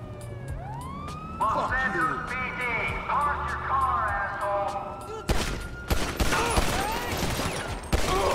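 Grand Theft Auto V gameplay with bursts of gunfire and rapid shots over wailing police sirens, loud and busy, with a voice talking through part of it.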